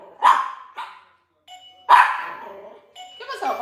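A dog at a dog grooming salon barks in sharp, loud bursts, about three or four with short gaps between them, close by and mixed with brief tonal chimes.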